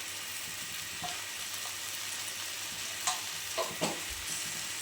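Soya chunks and okra fry with coriander and cumin powder while being stirred, a quiet continuous sizzle with several sharper scrapes and taps of a spoon against the pan near the end.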